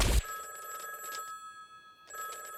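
A telephone bell rings in a cartoon scene, a steady trilling ring after a brief loud burst at the start, pausing briefly and starting again, close and clear with no talk.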